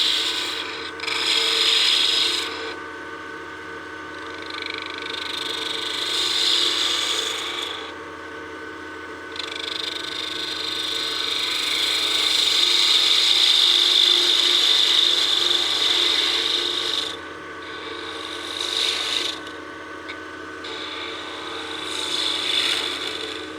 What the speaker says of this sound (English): now we can use our spindle gouge to finish that radius on the knob